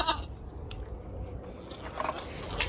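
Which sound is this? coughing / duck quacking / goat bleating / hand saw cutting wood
goat bleating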